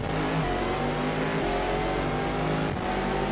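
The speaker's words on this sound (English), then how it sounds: "Vic Rice up ahead in one of the faster GTS cars." Race car engines in a GT sports car racing video game, a dense, continuous roar of several revving engines droning loudly with steady pitch changes and no voices.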